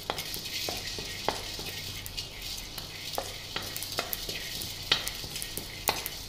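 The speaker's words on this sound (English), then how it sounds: "So I'm adding the pepper, the coriander and the jeera. Just lightly dry roast," Pepper, coriander and jeera dry roast in a pan, with a light sizzling hiss punctuated by frequent sharp scrapes and taps of a stirring utensil against the pan, close and alone.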